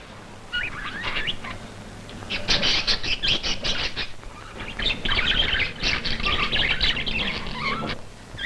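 Small birds kept in an Icelandic geothermal hothouse chirp and twitter busily and continuously at close range, with dense overlapping calls and some light pattering, and no talk.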